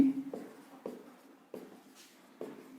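Chalk taps and scrapes on a classroom board during a chemistry lesson on moles, coming in four or five short strokes with brief pauses between them, close and clear.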